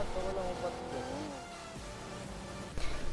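A car driving in the BGMI battle royale game, its engine humming steadily with shifting pitch, moderately loud, then a sharp burst of impact or gunfire near the end.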